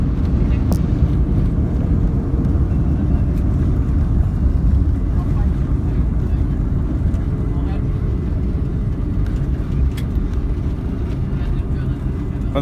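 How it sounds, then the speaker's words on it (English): A Mahan Air Airbus A310-304 brakes lightly on the runway after touchdown at Tehran Mehrabad, heard from inside the cabin as a loud, steady low roar and rumble that continues throughout. "Oh, good touchdown. Yay! It's light braking."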